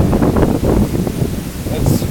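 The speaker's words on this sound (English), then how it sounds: "These trees are blowing around like crazy. It's super windy out here." Strong Hurricane Irma wind in Jacksonville, Florida roars and gusts through blowing trees, with heavy buffeting on the microphone and speech underneath.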